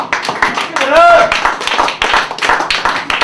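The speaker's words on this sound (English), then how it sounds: "let's hear some applause" Scattered audience clapping at a comedy show, uneven taps and claps mixed with voices and a brief whistle-like tone, fairly close and lively.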